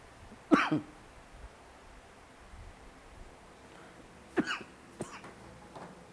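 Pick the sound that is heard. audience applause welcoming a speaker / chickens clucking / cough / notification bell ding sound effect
cough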